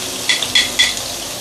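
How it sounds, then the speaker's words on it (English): Food sizzles in a pan on the stove for Hainanese chicken rice, with short bursts of crackling and a few soft stirring clicks, close and quiet. "and let's saute."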